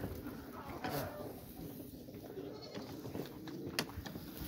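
Goats and lambs bleating at a summer highland pasture, with a few clear bleats rising over a steady outdoor background of the flock, no talk heard.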